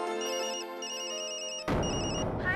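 A telephone rings alone with a steady electronic ringtone, loud and close, its tone pattern repeating and then switching to a brighter, fuller burst near the end.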